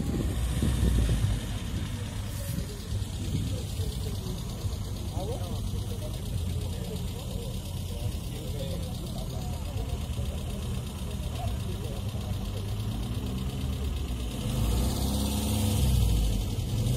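Caterham 7 car engine idling at a vintage motoring gathering in Langon, a low steady rumble with people talking nearby throughout.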